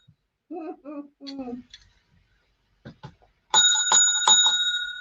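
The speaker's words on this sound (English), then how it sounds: "every time the bell rings, at Camper Life gets a drink" A bell rings out loudly in repeated strikes during a live Christmas stream, coming after a short stretch of speech and sustaining its shimmering tones to the end.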